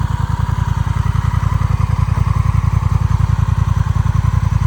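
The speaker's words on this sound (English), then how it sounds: "this fucking little Honda is a joy to ride" A small Honda motorcycle with automatic transmission runs close by, its engine thumping in a fast, steady rhythm at constant loudness with no voices over it.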